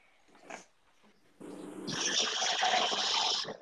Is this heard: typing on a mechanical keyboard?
no